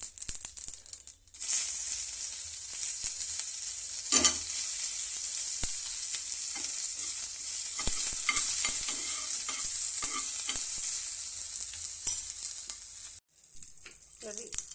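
Mustard seeds and chilies for tempering sizzle loudly in hot oil in a small pan, a dense crackling hiss that runs nearly the whole time and cuts off abruptly near the end, with brief quiet talk.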